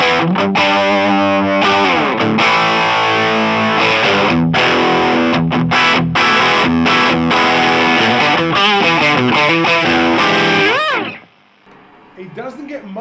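Electric guitar played loud through an Orange Micro Terror amp with gain near maximum, dense distorted chords and riffs that cut off abruptly into low crackling amp noise.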